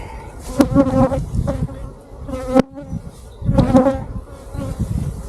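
Bees from a farm hive buzz steadily close by as the hive is set down, a dense insect drone with louder swells at a few moments and no talk over it.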